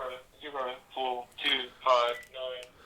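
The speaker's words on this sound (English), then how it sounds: "there's the phone" A telephone rings with a warbling electronic trill, sounding in repeated short bursts at a moderate level in an otherwise quiet room.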